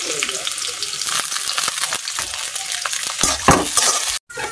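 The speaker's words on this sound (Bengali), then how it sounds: "পেঁয়াজ ভাজাটা হালকা ভাজলাম" Chopped onion, garlic and green chili frying in a pan, a loud, close, continuous sizzle broken by scraping stirs, with a brief cutoff near the end and no talking.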